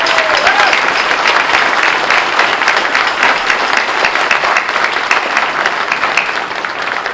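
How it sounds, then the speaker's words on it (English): Loud, sustained applause fills a hall at a 2016 town inauguration ceremony honoring former village board and town officials, thick overlapping clapping that barely eases over seven seconds. "Let's give them all a big round of applause."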